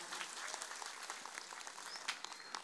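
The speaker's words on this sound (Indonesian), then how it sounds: "Tepuk tangan dulu dong buat panitianya luar biasa" An audience claps at a pengajian religious gathering in Mijen, Kebonagung, Demak. The applause is faint and scattered, a light patter of many hands heard from a distance.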